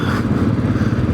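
Royal Enfield Classic 500 motorcycle on a petrol run, its engine chugging steadily and loud throughout a brief stretch of riding, with a rough rhythmic rumble.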